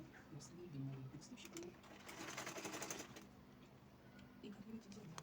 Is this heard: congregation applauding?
no